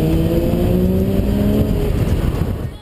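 A Porsche 986 Boxster S flat-six engine revving loudly and close, a steady, rich harmonic growl held for almost three seconds before easing off at the end, with no talking.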